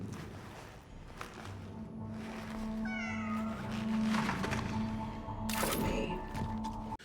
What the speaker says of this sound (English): There are cats in this game, and you pet them.